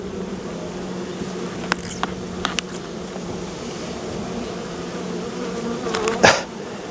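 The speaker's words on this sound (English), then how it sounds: "I see bees on here" Honey bees drone steadily close by as a hive is opened for a brood inspection, with a constant buzzing hum, a few faint knocks of frames, and one bee flying right past near the end.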